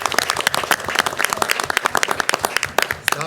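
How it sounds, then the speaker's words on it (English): A board of education meeting audience claps for a newly introduced vice president, a lively patter of many hands with sharp individual claps standing out, fairly close and continuous. "We're applauding for somebody more important"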